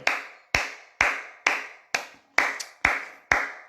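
A church congregation applauds in rhythmic unison, with sharp regular claps about twice per second, each one ringing briefly in the hall.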